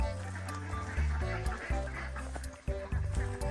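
Young farm ducks quack repeatedly at close range in loud, overlapping bursts amid weedy ground, with a voice briefly heard among the calls.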